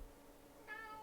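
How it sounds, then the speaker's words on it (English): A single short cat meow, faint and slightly distant, rising briefly near the end over a quiet room background. "That was my cat. Did you hear my cat then?"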